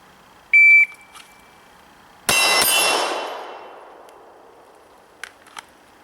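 A shot timer gives a short electronic beep, then a Glock 17 Gen 4 9mm pistol fires two quick shots that ring off a steel target and fade slowly, followed by a few faint clicks.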